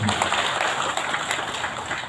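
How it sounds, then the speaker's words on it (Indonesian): Applause from the audience at an official ceremony in Wonogiri Regency, where village heads receive their service vehicles. Dense, steady clapping fills the whole stretch at a fairly loud, constant level, with a little crowd noise underneath. "Tepuk tangan untuk dia."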